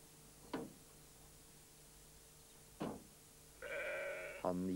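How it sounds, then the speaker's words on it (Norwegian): A sheep stuck in a fence bleats in a drawn-out, wavering call near the end, preceded by two sharp clicks over faint steady background hiss. "Pat var på vei hjem da han fikk øye på en sau som satt fast i et gjerde."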